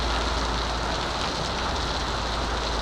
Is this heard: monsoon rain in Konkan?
yes